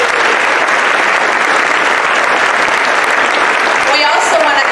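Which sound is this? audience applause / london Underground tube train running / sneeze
audience applause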